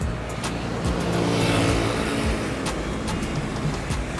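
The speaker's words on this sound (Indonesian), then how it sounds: "Oh, itu ada truk besar lewat ya." A large truck passes over a highway overpass, a loud continuous roar of heavy traffic with a swelling rumble at its peak partway through, close and steady with no voices.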